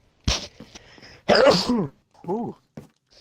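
A sharp, explosive sneeze up close, followed by a brief murmured voice and a small throat noise.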